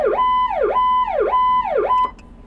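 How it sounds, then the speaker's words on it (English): An emergency vehicle's power call siren wails in a loud, close, repeating rise-and-fall, four quick cycles in a row before it cuts off abruptly. "the ever popular power call sirens"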